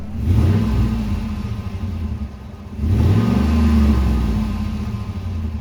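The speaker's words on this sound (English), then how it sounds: "let's go ahead and listen to the exhaust note of the 2014 Ford Raptor" A 2014 Ford F-150 Raptor pickup's exhaust revs twice, each loud, close blip of the V8 climbing and then settling back into a rumbling idle, with no talking.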